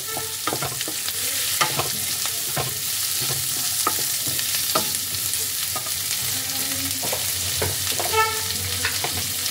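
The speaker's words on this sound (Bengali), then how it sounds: "পেঁয়াজগুলোকে তেলের মধ্যে ফ্রাই করে নেব।" Sliced onions sizzle in hot oil in a pan for chilli paneer, a steady close frying hiss broken by repeated scrapes and taps of stirring.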